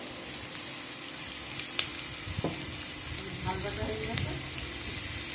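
Onions frying for chicken biryani, a steady broadband sizzle with light stirring clicks and scrapes throughout, close and even, no voices.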